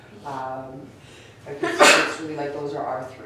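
A single sharp sneeze breaks out partway through, between stretches of someone talking.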